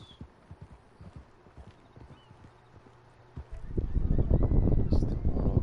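Horse hooves clip-clopping in Red Dead Online, a steady patter of light hoofbeats that swells into a louder, busier stretch of galloping near the end.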